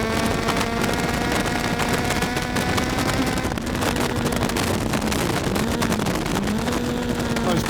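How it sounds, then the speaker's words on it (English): A GTR1400 motorcycle running on the Oulton Park race track sounds loud and close, its engine note falling as it engine brakes, with heavy wind buffeting throughout. "Nice bit of engine braking"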